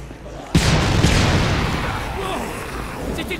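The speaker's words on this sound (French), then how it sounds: "On aurait dit une explosion." A sudden explosion bursts out in the video game Dead Rising 3, a loud boom with a long rumbling decay that fades over a few seconds, followed by faint distant debris and ambient game noise.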